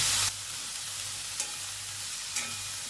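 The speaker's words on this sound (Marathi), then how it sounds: "इथं आपण घेवडा धुवून घेतलाय आणि परतून घेऊया." Hyacinth beans are stirred into green masala paste in a hot pan, giving a steady close sizzle with a couple of brief scraping stirs and no talking.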